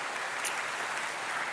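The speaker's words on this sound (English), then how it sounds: "Give yourselves a round of applause" Audience applause fills a hall at a basketball awards night, a steady dense patter of clapping throughout with no talking.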